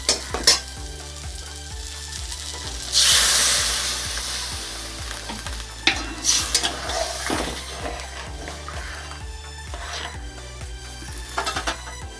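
Water hits sizzling spiced fried potatoes in a hot pan and sets off a loud hissing surge, then steady frying sizzle with scraping and stirring, close by and without talk.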